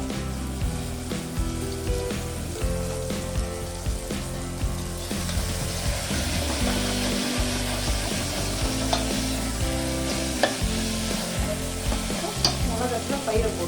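Curry leaves hit hot oil and sizzle, crackling and popping with a dense, continuous frying hiss and sharp spits throughout, close up and without speech.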